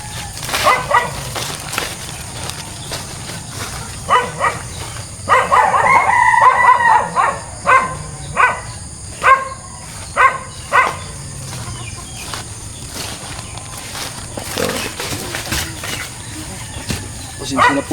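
A dog barks and yips repeatedly beside an avocado orchard, with sharp separate barks and a longer excited burst, set against steady outdoor background noise.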